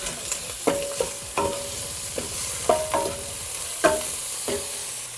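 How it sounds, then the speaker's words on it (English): Celery and carrots sauté in a pan, a continuous frying sizzle broken by repeated sharp scrapes and clicks of stirring at irregular intervals, close and clear with no talking. "we're going to saute these for about 5 to 7 minutes to soften them up"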